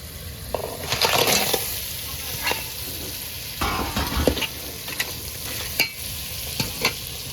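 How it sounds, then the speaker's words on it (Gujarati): Crab curry is stirred in a sizzling pan, with a spoon scraping and clinking in irregular strokes over a steady close frying hiss and no talking. "થોડોક હલાવવાનું છે કેમ કે એની રસામાં થોડી ગંડિયાળામાં જાય"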